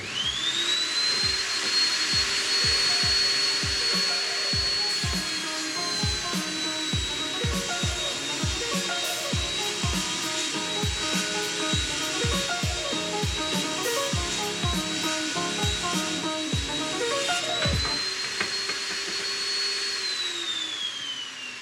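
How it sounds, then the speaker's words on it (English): A table saw blade rips along a 20mm board for a desk build, a loud sustained whine with a steady high tone, broken by frequent low thumps, running continuously before easing off near the end. "what I need to rip, you want it cutting closest to the top of the arc of the blade as possible"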